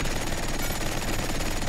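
Rapid, unbroken automatic gunfire from the Paladins video game, played as the champion Talus, rattles loudly and steadily with no pauses.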